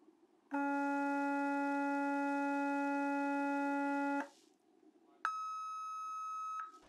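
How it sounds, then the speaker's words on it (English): A phone tone generator app plays steady electronic tones through an auxiliary cable. A lower multi-harmonic tone holds for several seconds, then after a short gap a higher tone sustains. "By using my phone, I can play multiple tones simultaneously to create a wider range of patterns."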